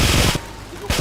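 Bursts of rapid automatic gunfire in the video game GTA 3, loud and close, with one burst, a short pause, then another burst starting.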